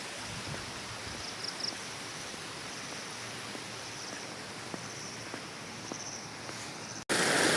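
A mountain stream rushes in a steady, broadband hiss of flowing water, close and continuous, with a few faint clicks and a sudden louder burst at the very end.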